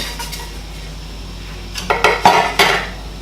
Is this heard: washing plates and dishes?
yes